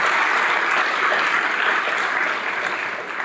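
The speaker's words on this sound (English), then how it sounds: "Let's give them a round of applause, please." An audience applauds at a county mayor's budget address, a continuous even roar of clapping hands that holds steady and only eases slightly at the very end, with no talking over it.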